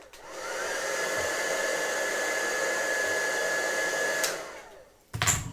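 A handheld craft heat tool blows over Stampin' Up! heat and stick powder for about four seconds, a steady close whirring roar with a high whine, then cuts off followed by brief handling clatter.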